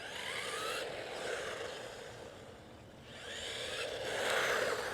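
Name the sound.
RC car tires rolling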